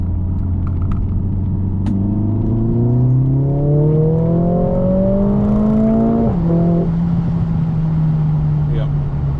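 Mercedes-AMG A45 S pulling hard under full throttle, a strong rising engine note climbing steadily for several seconds, then dropping briefly at a gear change before holding steady; heard from inside the cabin as one continuous drone.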